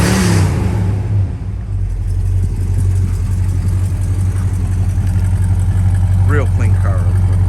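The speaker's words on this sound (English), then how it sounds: "Give it a little bit more gas." A 1969 Dodge Charger V8 runs loud and close with a deep, steady rumble and a brief rise as the gas is fed in, and a voice speaks faintly over the engine near the end.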